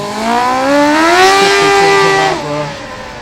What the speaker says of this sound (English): It sounds as if the clutch slipping there